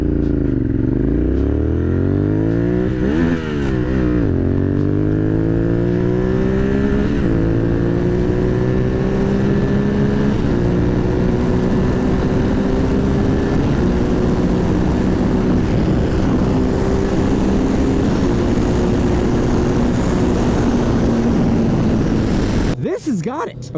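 Kawasaki Vulcan S motorcycle, a 2015 model, revving and accelerating hard through the gears, the engine note rising and dropping with each shift, then holding a loud, continuous high-rpm drone under wind noise before cutting off.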